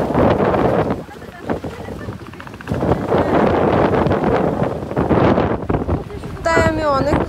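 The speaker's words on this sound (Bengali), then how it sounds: "এজন্য আজকে বাতাসটা অনেক বেশি ছিল" Strong wind buffets the microphone on the Padma riverbank at Mawa ferry ghat, a loud, continuous roar with gusts rising and easing over the whole stretch, and a faint tonal sound near the end.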